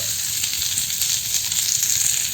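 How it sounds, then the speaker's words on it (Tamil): Onion and green chilli fry in a pan for vegetable dosa, giving a steady, close, bright sizzle that holds evenly through the short stretch with no talking. "வெங்காயம் போட்டு வதக்க போகிறேன். வெங்காயம் போட்டேன், பச்சை மிளகா,"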